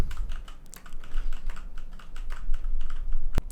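Rapid computer keyboard typing, with the W, S, D and R keys and the spacebar pressed in quick clicky bursts close to an AKG P120 or Audio-Technica AT2020 microphone, ending on one sharper tap.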